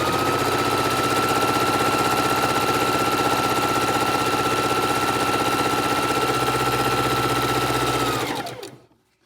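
Sewing machine stitching scrap quilt fabric, a loud, steady, rapid mechanical whir running evenly for about eight seconds before winding down and stopping, close up with no voices.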